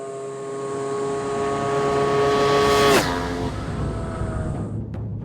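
Yamaha motorcycles on a private test circuit near Hamamatsu, Japan: a loud engine note rising as a bike approaches, a sharp pass-by peak with a pitch drop, then fading away.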